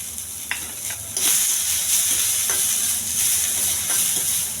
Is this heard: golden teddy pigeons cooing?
no